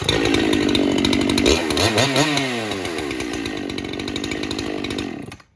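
A Makita 7900 power cutter engine, fitted with a modified muffler, runs loud and close with a steady buzzing two-stroke drone, sweeps through a quick rev change partway, then settles before cutting off at the end.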